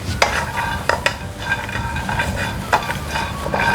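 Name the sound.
dry-roasting chilies, garlic and shallots in a pan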